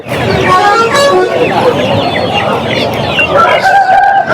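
Chickens cluck and squawk loudly close by amid busy poultry market bustle in Bangarpet, with voices talking in the background and a horn tooting faintly.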